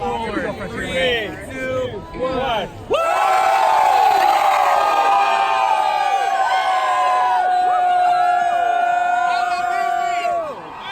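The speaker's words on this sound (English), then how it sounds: "We're in a shouting competition now." A large crowd at Disneyland's Frontierland shouts and cheers loudly on the opening day of Rise of the Resistance, a sustained roaring wall of voices that erupts after a few seconds of rowdier chatter.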